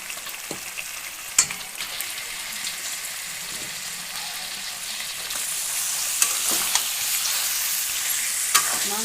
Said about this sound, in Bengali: দেখো মশলাটা কষা হয়ে গেছে, এবার আমি ধুয়ে রাখা মাংসগুলো দিয়ে দেবো।